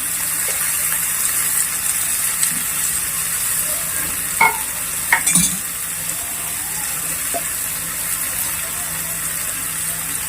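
Vegetables fry in a pan with a steady, fairly soft sizzle, broken by a few sharp clinks and scrapes as they are stirred.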